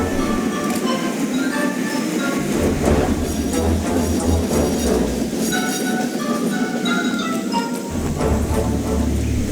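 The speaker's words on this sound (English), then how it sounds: "he puffed and snorted round to the front of the train and backed onto it with a rude bump" A steam engine on a model railway runs with clinking couplings and rolling rail noise, a dense busy clatter with metallic chinks that carries on steadily at close range.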